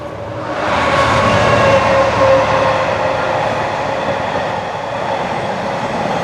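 A train rumbles past near an underground workshop bunker, a loud continuous roar of rolling wagons with metallic rail hum that swells in and holds steady for several seconds, close by with no voices.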